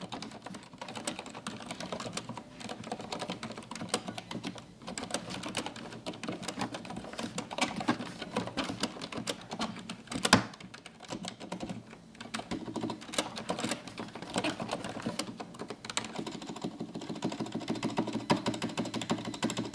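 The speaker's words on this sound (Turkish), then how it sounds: "Corsair'in Cherry MX mekanik klavyesi nasıl ses veriyor bize şöyle dinleyelim" Rapid, continuous clicking of keys on a Corsair Strafe RGB MK.2 keyboard with Cherry MX switches, an uneven typing rhythm close up, with no speech.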